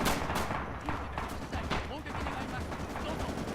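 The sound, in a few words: artillery and machine gun fire in Red Orchestra 2 video game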